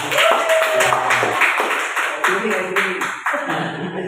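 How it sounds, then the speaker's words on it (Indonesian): A small audience claps hands together at an indoor school gathering, a steady patter of many hands lasting a few seconds, with a voice speaking over it at the start. "Kita tepuk tangan dulu dong semuanya"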